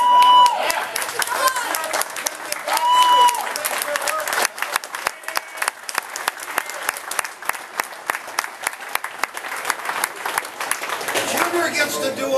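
Audience applause at a bowling title match award ceremony, a crowd clapping loudly and steadily for several seconds, with voices briefly audible early on before the clapping thins and tapers at the end.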